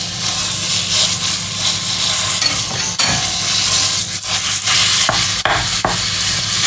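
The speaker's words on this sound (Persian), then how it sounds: "خب روغن ما تقریبا داغ شد، من این گوشت رو اضافه میکنم." Meat dropped into hot oil for adas polo, a loud, dense, close sizzle that keeps up throughout, broken by a few scrapes and knocks of stirring.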